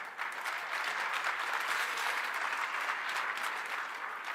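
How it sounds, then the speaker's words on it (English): Sustained applause from a crowd at a political event in Texas, a dense steady patter of many hands clapping at moderate distance with no voices over it. "he deserves a big applause for doing that"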